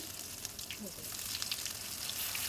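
Curry leaves fry in a pan, a steady bright crackling sizzle with small pops that holds evenly at close range throughout.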